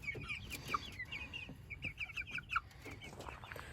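Several chickens cluck and murmur nearby in a steady, busy chatter, with occasional sharper calls standing out.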